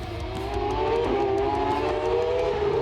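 A 3-rotor 20B-powered Mazda FD RX-7 race car howls past at a street-circuit motorsport festival, its high rotary engine note rising steadily with a brief shift dip, loud and close.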